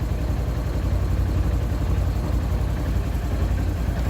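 Engine of a 2013 CFMOTO Z Force 6 side-by-side running steadily at a low idle while still cold, a constant low rumble with a dense throb and no breaks or revving.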